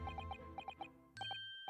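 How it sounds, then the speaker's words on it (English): Small bells ringing in clear, bright chimes, a quick run of tinkling strikes followed by a few more ringing tones, faint and close. "oh, bells!"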